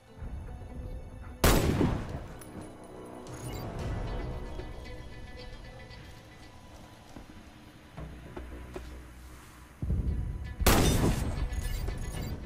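Sniper rifle shots hitting targets in the shooter game Warface: two loud, sharp blasts about nine seconds apart, each with a short ringing tail, separated by quieter game ambience.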